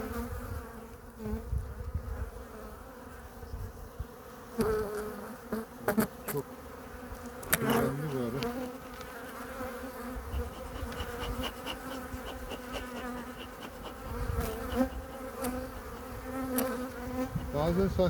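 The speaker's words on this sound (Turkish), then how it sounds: "Arılar o yüzden sert." A dense, continuous buzzing of many honeybees close by around a hive on an overcast day, droning steadily with occasional sharper passes as individual bees fly near.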